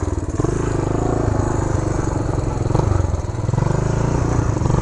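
A 1975 Honda Redline Powroll 412cc vintage motorcycle ridden through snow, its engine a loud, close, steady rumbling drone with a slightly pulsing throb and no clear revving throughout.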